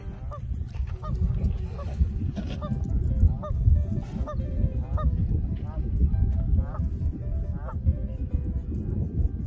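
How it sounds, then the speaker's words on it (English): A flock of geese honks alarm calls repeatedly at a marsh in short, rhythmic bursts over steady low wind noise, the calls fairly close and insistent. "Birdies are sounding the alarm."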